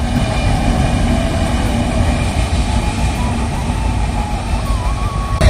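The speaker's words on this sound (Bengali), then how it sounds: "ট্রেনটা কিন্তু অনেক বড়" A large train rumbles steadily past nearby in Rajshahi, Bangladesh, a dense continuous roar with a faint high whine near the end.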